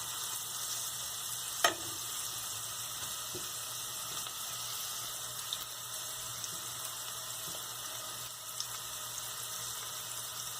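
Pav bhaji vegetable mixture with capsicum frying in a pan, a steady soft sizzle running throughout with one sharp utensil clink near the start and a few faint taps later.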